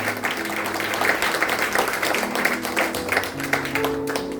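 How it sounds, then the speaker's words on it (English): A congregation at a church service in Mysore claps loudly together, a dense, steady wash of hand claps filling the space, with faint tones and some voices running underneath. "A loud clap."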